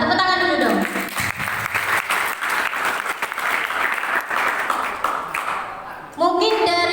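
A seminar audience at a university admissions guidance event claps for a regional council deputy chair, steady applause that swells after a voice, runs for several seconds, then fades as talking resumes.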